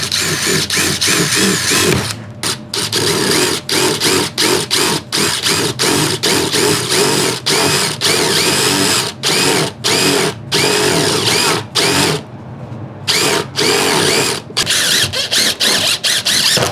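A power drill drives screws into the walls of a food truck being built, loud and close, with long whirring runs broken by short stops and restarts.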